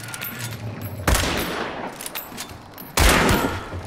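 Gunfire in the co-op shooter game Hunt: Showdown, set around barns: two sharp, loud shot bursts about two seconds apart, each with a booming low thump and a ringing tail, over faint background ambience.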